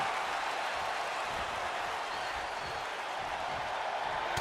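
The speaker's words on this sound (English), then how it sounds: "And you hear the crowd letting them know Rhea and Liv are truly delivering something special" Steady, dense crowd cheering and applause from a wrestling arena in the WWE 2K24 video game, a continuous roar holding at an even level throughout with no talk over it.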